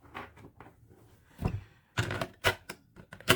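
Batteries are clicked and pressed into the back compartment of a boxed, faulty counterfeit Game Boy handheld, giving a series of close plastic knocks and snaps, irregular and clustered toward the end.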